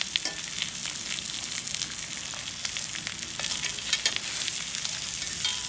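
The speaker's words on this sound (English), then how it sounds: "Keep them still sizzling." Sous vide top round steaks, London broil cut, searing in a hot pan with a steady, dense sizzle and crackle throughout, close and fairly loud, no voices.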